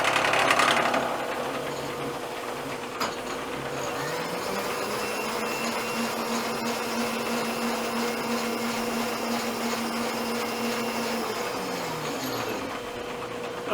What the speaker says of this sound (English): See, I got a fan there in the background,